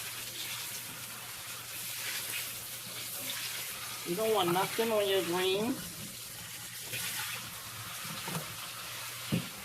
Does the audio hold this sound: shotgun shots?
no